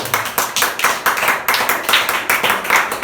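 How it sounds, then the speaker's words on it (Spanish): Congregation clapping along in church at a Spanish-language service, a steady rhythmic beat of many hands, about three claps per second, loud and close with no talk over it. "Ahora apláudalo, si lo va a aplaudir"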